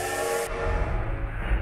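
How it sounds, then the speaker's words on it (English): A train horn in a Roblox obby game sounds loud and close, a steady sustained tone starting abruptly and carrying over a low rumbling rail noise for under two seconds. "Oh, train? It's a choo-choo train."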